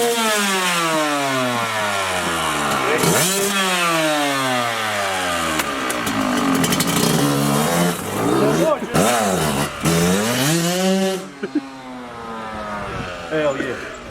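A motorcycle bought secondhand revs hard through a couple of launches, its engine pitch sweeping up and down repeatedly in loud rising and falling bursts, close by, with voices in the background.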